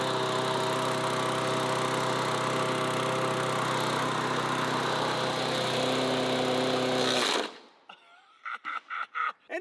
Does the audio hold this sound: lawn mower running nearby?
yes